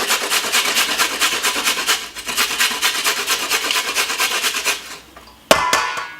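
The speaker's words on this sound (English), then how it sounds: "Just gonna grate a little bit of carrot inside of it." Carrot rubbed against a grater for a couscous salad, steady rhythmic rasping strokes close up, ending in a couple of sharp clanks.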